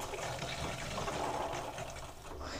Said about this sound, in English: so we've got a good flow of water on our bathroom taps and also on the shower